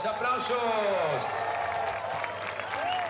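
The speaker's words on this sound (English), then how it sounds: "Les applaudissements du public pour la troisième position" Steady crowd applause and scattered cheering from a large outdoor audience at the men's elite cyclo-cross World Cup race in Benidorm, with a commentator talking over it throughout.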